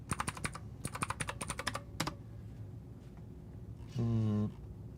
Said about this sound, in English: This is a cheap Chinesium keyboard.